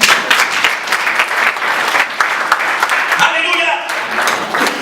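A church congregation at a Sunday worship service applauds, with steady, dense clapping that runs throughout and scattered voices mixed into the noise.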